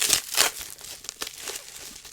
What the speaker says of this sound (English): I'm going to have to like unwrap every single one of these.